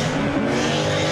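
A loud, throaty V8 race car engine roars steadily at close range, a dense mechanical growl with no voices.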